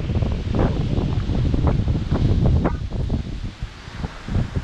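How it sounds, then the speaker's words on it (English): Strong morning gusts of wind rushing and buffeting the microphone, with rustling through tree leaves, rising and falling in loud waves. "windy morning"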